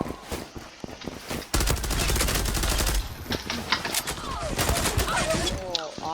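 Gunfire in the video game Zula, with dense rapid bursts and single shots close and loud, plus a voice speaking over the shooting.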